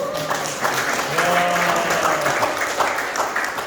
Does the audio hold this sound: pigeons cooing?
no